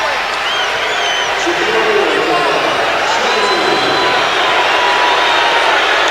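A basketball arena crowd hollers at Shaquille O'Neal as he steps to the free-throw line, a loud, steady wash of voices and jeers filling the whole stretch without letting up.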